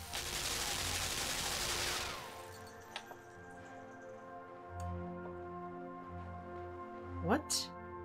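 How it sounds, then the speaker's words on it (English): A burst of machine gun fire in the dark platformer Limbo: a dense roar of rapid shots for about two seconds, then quiet humming ambience with a few sharp clicks and a brief rising whistle. "Okay, so there's a machine gun."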